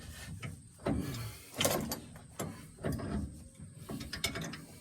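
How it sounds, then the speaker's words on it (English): A hand reamer cleans up the king pin hole on a 1948-55 Chevrolet 1.5 or 2 ton truck, giving quiet scraping, clicking turns in uneven bursts, close and faint with no talk. "Just a reamer."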